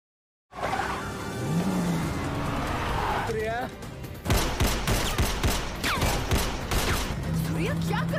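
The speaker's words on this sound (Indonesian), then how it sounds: "Adegan tembak-menembak pun dimulai." Gunfire erupts in a film shootout scene at a mall: after a car engine and whooshing movement, a rapid volley of sharp, loud shots crackles in quick bursts, mixed with a speaking voice.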